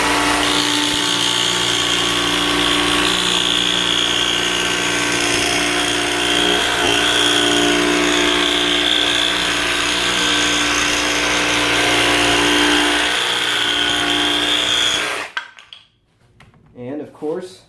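A Milwaukee M18 FUEL D-handle cordless jigsaw cuts through wood with a loud, continuous buzzing rasp for about fifteen seconds, then stops abruptly, leaving a few faint knocks and handling sounds.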